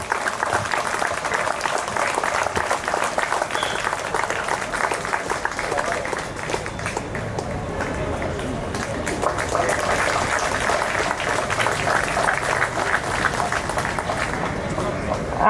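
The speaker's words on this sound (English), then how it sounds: "Round of applause." Audience at the inaugural ceremony of a zonal sports meet claps through a long, steady round of applause, loud and continuous throughout, with faint crowd murmur beneath.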